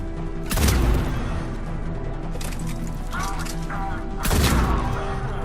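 Gunfire bursts in a Mass Effect 3 firefight, two loud broadband blasts framing a stretch of scattered shots and mechanical clatter, with voices talking over the action.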